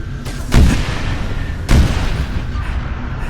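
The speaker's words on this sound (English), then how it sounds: "gotta show the explosion for the forklifts" Two heavy booms from forklifts exploding during a Halo firefight on a custom map, about a second apart, each with a sharp onset and a rumbling tail over background game noise.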